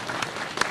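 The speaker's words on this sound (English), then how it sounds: "you know, clap for him." An audience at a national dialogue forum claps in a brief, dense burst, with a few sharper individual claps standing out.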